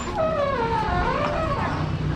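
A dog whimpers and whines in a rising, falling wavering tone for about two seconds, close and fairly loud, with no talking.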